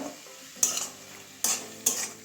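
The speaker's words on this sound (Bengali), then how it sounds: "টমেটোটাকে একটু ভেঙে দিচ্ছি" A spatula presses and breaks up soft tomatoes among frying brinjal in a pan, giving three sharp scraping stirs over a low, steady sizzle, with no voices.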